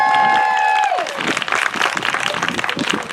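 A crowd at a Pride flag raising ceremony at City Hall in Monterey breaks into dense, sustained applause nearby, following a brief ringing tone at the start.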